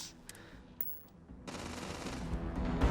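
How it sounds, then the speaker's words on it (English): Turrets in the video game Starfield open fire in a rapid, continuous burst of automatic gunfire that starts abruptly partway through and builds steadily louder, preceded by a few faint clicks and tones. "The turrets will do the job for me."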